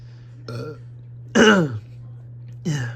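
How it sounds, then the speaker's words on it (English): Three distinct burps from a person, the middle one longest and loudest, each spaced about a second apart over a steady low hum. "Sorry about me burping there."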